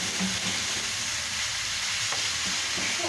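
Ground meat kofta crumbled into onion sizzles and fries steadily in a pan, a continuous close hiss and crackle with faint stirring, no voices over it.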